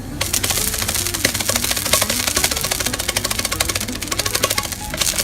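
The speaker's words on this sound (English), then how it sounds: "you start to jitter it about a bit, and it will make a noise" A buckwheat tortilla is jittered about in a pan, a rapid, loud, close rattling tap that continues steadily for several seconds with no talk over it.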